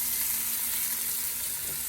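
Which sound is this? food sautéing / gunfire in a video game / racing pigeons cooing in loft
food sautéing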